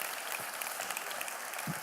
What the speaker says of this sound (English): a round of applause for these gentlemen